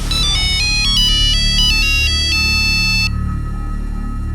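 A mobile phone rings with a call from a police inspector, a bright electronic ringtone melody of quick stepped notes played loud and close, cutting off after about three seconds to leave a low hum.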